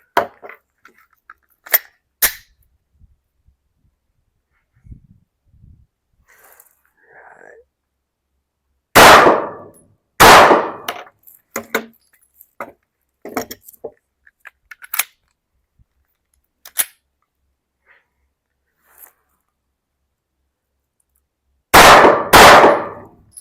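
Sharp gunshots at an outdoor shooting range, fired in a few scattered single reports and tight pairs with quiet gaps between, loud and close, with faint clicks and handling noises in the pauses.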